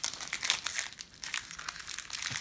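Pokémon cards are pulled out of a Dawn Wings Necrozma GX collector tin, giving close, busy crinkling and rustling of wrapping and packaging in irregular bursts.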